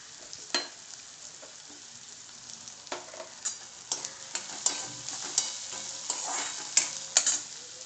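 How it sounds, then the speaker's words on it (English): Carrots, capsicum and cabbage being sauteed in a pan over a high flame, with a continuous sizzle and a run of scraping stirs and clinks from a spatula that grow busier and louder toward the end, with no one talking. "The capsicum and the cabbage. I saute it for a minute or so"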